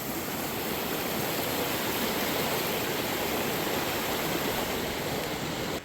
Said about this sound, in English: Water's getting fast now.